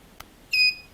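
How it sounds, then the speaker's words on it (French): A single high electronic beep from a homemade laser tripwire alarm, steady and fairly loud, lasting about a quarter second after a brief faint click. "si on coupe le faisceau, donc quand on va rentrer par exemple dans ta chambre, bah, ça va biper"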